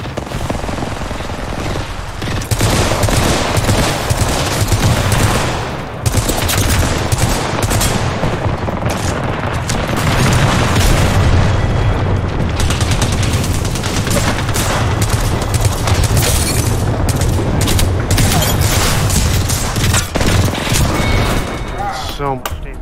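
Rapid bursts of L-Star energy gun fire in Apex Legends, loud and sustained with dense repeated shots and short pauses, mixed with other game sounds throughout.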